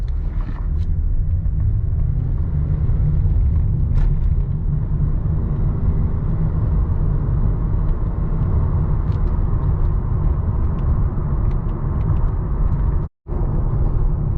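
A 2009 Lexus ES350 sedan drives along, giving a steady, loud low road and engine rumble from inside the cabin, with a brief dropout near the end and no talking.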